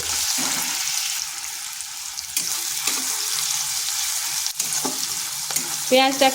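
Onion frying lightly in a pan, a loud, continuous sizzle with intermittent stirring scrapes and a clink near the end.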